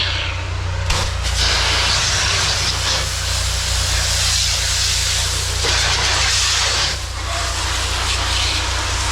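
A pressure washer with a shooter tip sprays continuously while cleaning a townhouse exterior near a door, with a loud, steady hiss and a low motor drone, briefly dipping a couple of times.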